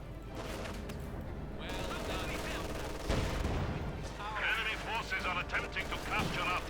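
Gunfire and artillery explosions from a Company of Heroes 2 2v2 match between Soviet and German forces, a steady din of shots and blasts with a heavy impact near the middle, under continuous commentator talk.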